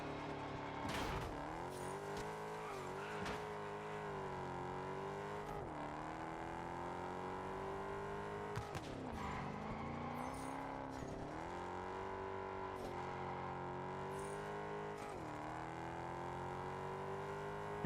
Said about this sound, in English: the amount of backfiring cannot be healthy for the engine